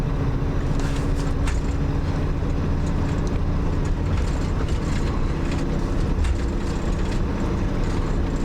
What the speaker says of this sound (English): There's a train here that does a trip every week